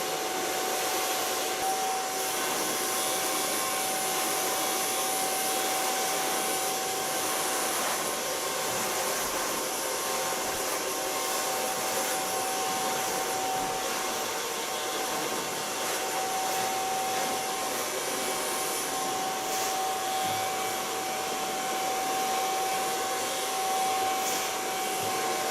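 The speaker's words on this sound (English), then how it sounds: "So far blow drying." A hair dryer blows steadily on its volume setting while styling hair, a close, loud and continuous whoosh with a faint steady whine running through it for the whole stretch, no talking.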